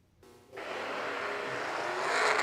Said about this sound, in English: And Kyle Sudmeyer out of Michigan in the turbocharged BMW, a diesel-powered entry.